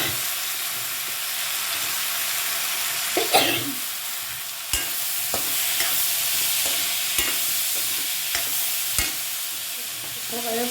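Chana dal frying in a pan gives a continuous bright hiss, with occasional scrapes and sharp taps of a stirring spoon against the pan, close and steady throughout with no speech.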